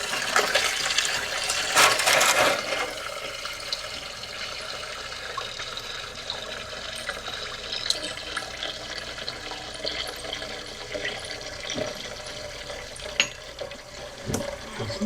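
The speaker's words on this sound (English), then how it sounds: "I'm going to flush some diesel fuel through there to try and flush some more of these chunks out" Diesel fuel pours through a tank on a John Deere to flush out chunks, a steady gushing, splashing liquid stream that surges loudly at the start and then runs on continuously, close by with no talk.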